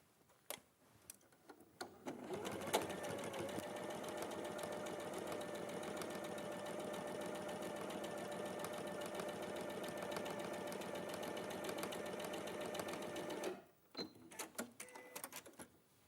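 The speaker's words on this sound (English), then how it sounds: "So we're going to sew these with a 1/4-inch seam." A sewing machine stitches a quarter-inch seam with a quarter-inch foot, a steady, fast mechanical whirr and needle tapping running continuously for about eleven seconds, framed by a few clicks and faint handling noises before and after.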